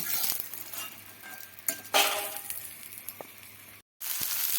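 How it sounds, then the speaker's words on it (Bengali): Bitter gourd fries in oil in a wok after lentil dumplings were cooked in it, a soft sizzle under occasional stirring scrapes and light utensil clinks, fairly quiet. "এবার আমি বড়িগুলোকে তুলে নেব আর ওই একই কড়াইয়ে আমি উচ্ছেগুলো ভেজে নেব"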